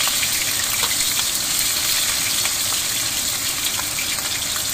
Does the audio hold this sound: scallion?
yes